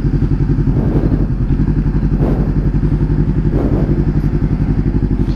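A Honda CBR500R fitted with an aftermarket Dynamic exhaust runs close by, giving a steady deep throbbing idle with a few brief rising revs and no speech.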